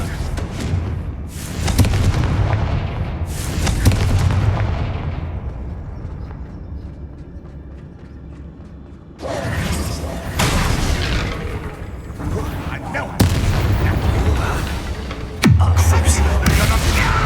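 Confringo fire spell explosions from the video game Hogwarts Legacy: several loud, booming blasts with rumbling tails, separated by quieter stretches of game ambience.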